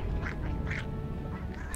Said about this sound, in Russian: Что-то там кто-то крякать начал.